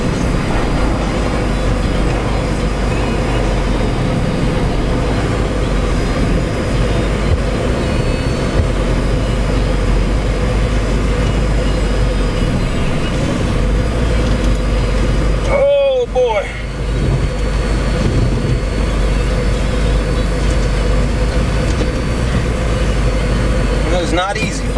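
A 1989 Alfa Romeo Graduate Spider without power steering reverses and is manoeuvred, its engine a steady low drone throughout with voices talking over it.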